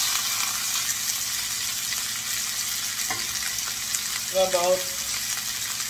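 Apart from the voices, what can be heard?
chicken pieces frying in a pan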